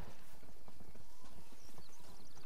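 Horse hooves clip-clop in Red Dead Redemption 2, a brisk, close rhythm of repeated hoofbeats on the ground with a faint whinny-like tone above, heard alone without talk.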